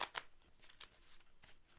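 Tarot cards being shuffled by hand in a few quick riffling bursts, crisp papery flutters with short gaps between them, close and fairly quiet with no talking.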